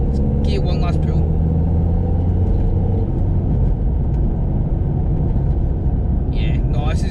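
A modified Ford Fiesta Zetec S diesel accelerates hard, its engine droning with rising harmonics for a few seconds before easing into a steady rumble, with brief chirps of other sounds at the start and end.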